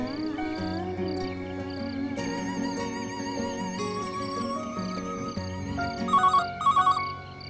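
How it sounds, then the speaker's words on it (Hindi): A ringtone on a phone trills in short repeated bursts late at night, set against a music score in an action movie scene, growing louder toward the end with no voices over it. "इतनी रात को कौन फोन कर रहा है?"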